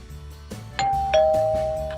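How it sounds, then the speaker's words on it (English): A household doorbell rings indoors with two clear bright chime tones, the second note sustaining and slowly fading, over a low background hum. "Oh, there's the doorbell."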